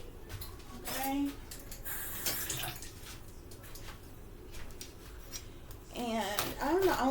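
Tap water runs over cabbage being rinsed, a bright splashing rush that comes and goes in bursts, with a voice talking over parts of it.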